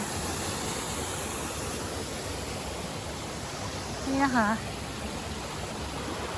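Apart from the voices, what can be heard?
small waterfall at a coffee shop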